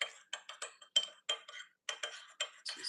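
A teaspoon stirs thick marinara dipping sauce in a small dish, making a quick run of light metallic clinks and scrapes against the bowl in an uneven rhythm, close and fairly quiet, with no talking.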